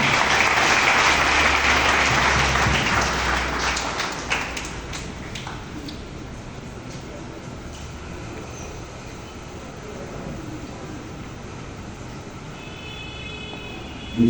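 Audience applause at a Bible school graduation ceremony in a hall, a dense, loud burst of clapping that gradually thins and fades into a low, steady wash of scattered claps.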